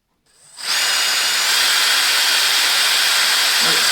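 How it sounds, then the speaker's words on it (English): A power drill bores a hole into a hardwood Jazzmaster-style guitar body. A short spin-up is followed by a loud, steady, close whine with a hissing bite that holds for about three seconds. "We have drilled in right on that center line. Perfect. Now I'll go into the stop."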